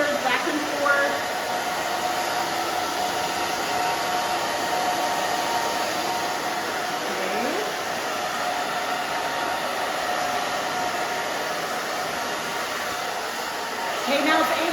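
A hair dryer blows steadily and loudly at close range while a short pixie cut is blow-dried, a continuous airy roar that holds almost unchanged throughout.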